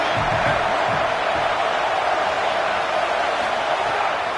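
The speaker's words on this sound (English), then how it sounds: "This crowd bringing the energy and noise early" A football stadium crowd roars throughout, a dense, loud wash of cheering and noise that stays constant with no pauses.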